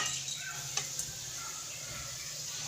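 Chana dal sizzling and frying in hot ghee in a pan, a steady soft crackling hiss with a few faint ticks, close and fairly quiet.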